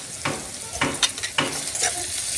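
Onion and a spoonful of cumin fry in hot oil for a dry bombil masala, a close sizzle broken by four or five quick stirring scrapes of a spoon in the pan.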